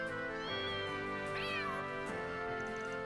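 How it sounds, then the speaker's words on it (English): Cute recorded cat meows play as a game easter egg in The Legend of Heroes: Trails Beyond the Horizon, with a couple of clear, close meows over a steady musical background. "It plays a collection of cute cat sounds I record in the capital."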